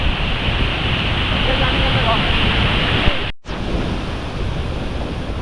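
Ukshi Ranpat waterfall beside the Konkan Railway in the Konkan region, a loud, continuous roar of falling water heard close up, with a short break near the end and no one speaking.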